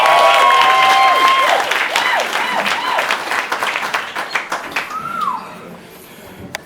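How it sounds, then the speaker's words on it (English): An audience at a comic relief improv show claps loudly, with whoops and cheers over dense applause. The clapping thins into scattered individual claps and fades away. "So can we give them a massive round of applause?"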